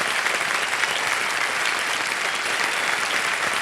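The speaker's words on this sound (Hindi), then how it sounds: "तालियां बजते रहें।" Studio audience applause on a televised quiz show set, a dense, steady wash of clapping that holds at an even level throughout with no voices standing out.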